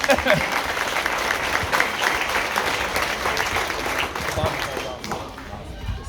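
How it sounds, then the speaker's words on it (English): An audience at a school board recall meeting gives a round of applause, sustained crowd clapping that fills the room before tapering slightly near the end, with some voices mixed in underneath. "So if you guys could give him a round of applause, that's a big ask."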